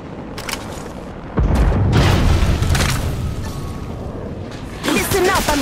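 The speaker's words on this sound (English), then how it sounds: "Shots fired and they're hitting me." Gunfire in the mobile battle-royale game Apex Legends Mobile: loud booming shot bursts that swell and fade over several seconds, a second burst near the end, with game voice lines and background effects mixed in.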